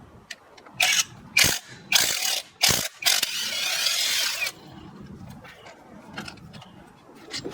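A ratchet clicks in several short, sharp bursts while loosening a 13 mm water pump pulley bolt on a Jeep Grand Cherokee engine, followed by a longer run of ratcheting, then faint handling noises.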